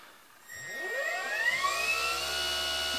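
An electric go-kart motor on a bench test spins up as the throttle opens: a near, rising electric whine that climbs steeply in pitch, then settles into a steady high hum.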